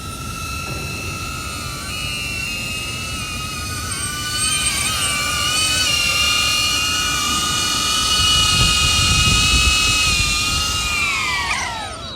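DJI Avata drone hovering and coming in to land, its high propeller whine steady and close with tonal harmonics, swelling slightly before dropping away as it settles.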